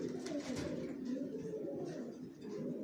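Racer pigeons kept for sale coo softly and continuously in a cage, a low throaty burbling murmur that is steady and faint throughout.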